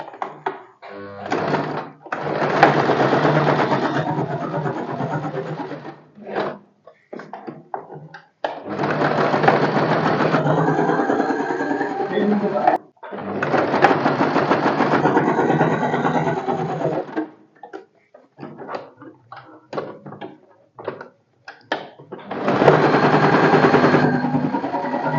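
A sewing machine stitches tucks on a lined katori blouse, running in several long loud bursts of rapid whirring with short pauses between them.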